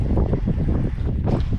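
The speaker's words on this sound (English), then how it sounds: "As you can see, it's very windy." Strong gusting wind buffeting the microphone beside a neighborhood fishing pond, a loud, rumbling low-pitched roar that surges in uneven pulses for a moment with no voices.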